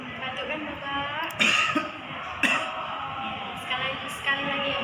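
A patient practising effective cough training coughs several times in short bursts, close to the microphone, with a clinician's speech running under and between the coughs.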